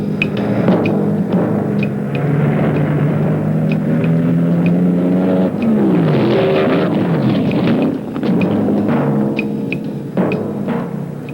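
Funny car dragster with a blown fuel Chrysler engine and fiberglass body racing at Bee Line Dragway, a loud roaring engine rising and falling in pitch as it passes, heavy and continuous.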